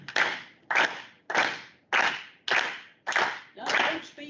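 A lecture audience at a physics-of-music talk claps together in time with the presenter, seven loud, evenly spaced bursts of many hands about every two-thirds of a second, each ringing briefly in the hall.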